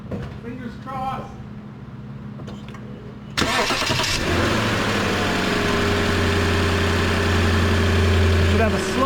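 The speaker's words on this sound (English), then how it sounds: "I'm going to start the car" A Lexus LS460 engine cranks and catches partway through, then settles into a steady low idle hum that continues to the end, with someone speaking briefly before the start.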